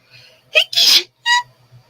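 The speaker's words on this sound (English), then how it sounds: "Here's sneeze again." A single close, loud sneeze bursts out after a quick sharp inhale, followed by a brief vocal exhale, in an otherwise quiet room.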